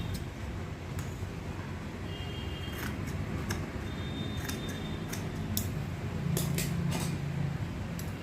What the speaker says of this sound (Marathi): आणि हा कपडा कापून घेते.